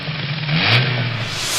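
A Bentley engine revs up from a rumbling idle, the pitch climbing smoothly and then holding, loud and close with a steady mechanical roar and no voices.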